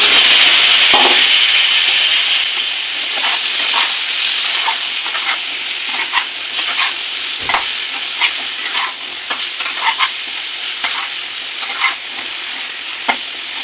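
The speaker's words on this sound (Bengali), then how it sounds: "বেগুনটা আমি হালকাভাবে ভেজে নিয়েছি" Eggplant pieces, seasoned with salt and turmeric, fry in oil in a pan while being stirred, giving a steady sizzle broken by a run of sharp, rhythmic scraping strokes, close and fairly loud, with no talking.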